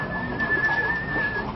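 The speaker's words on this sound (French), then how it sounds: "un sifflement pour le faire uriner" A sustained high whistle given to a horse to make it urinate, steady and clear, holding one pitch for over a second against a low background murmur.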